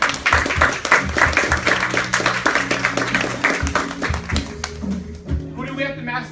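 A seminar audience claps in a quick, dense burst that overlaps with voices and chatter, then thins out toward the end.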